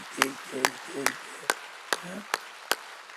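A church congregation gives seven sharp claps in a slow, even rhythm, each a crisp isolated crack, with a pastor's voice speaking over the first few.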